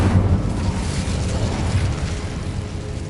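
An Incendio fire spell bursts in Hogwarts Legacy, a loud rumbling whoosh of flame that roars continuously with a heavy low-end boom throughout.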